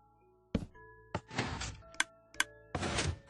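Two sharp clicks of a Minecraft redstone repeater a fraction of a second apart stand out among other short knocks and broadband whooshing bursts, all fairly close and crisp.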